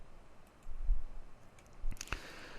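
A computer mouse gives a few faint, sparse clicks on software buttons in a quiet room, with two sharper clicks near the end.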